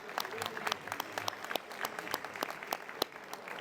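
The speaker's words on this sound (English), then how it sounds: "Let's give them all a round of applause" A luncheon audience at the 2025 LegisGator event applauds, a fairly quiet spread of individual claps heard distinctly, rippling irregularly for several seconds with a hint of crowd murmur beneath.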